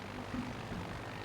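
A carrier aircraft's engine drones steadily in World of Warships Legends, a brief, even, buzzing roar.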